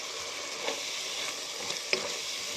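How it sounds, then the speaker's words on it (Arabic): Onion and garlic fry in a pan with a steady close sizzle, a few soft stirring clicks punctuating the hiss, no voices. "هاولك البصل تاعي راني ضفتو ليه هنا مع الثوم. شفتو كي ريحتو مع الثوم. نخليه يتقلى."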